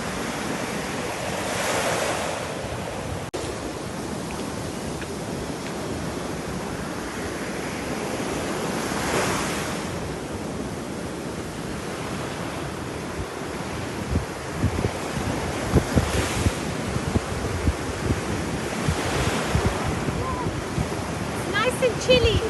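Ocean waves rolling onto a beach in Sicily, with repeated crashes and a steady wash of surf, wind rushing across the microphone throughout.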